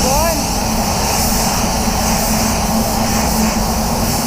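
Paint spray gun lightly feathered on a VW Polo for a blend over masking, giving a steady, loud hiss of fine atomised spray that runs without a break.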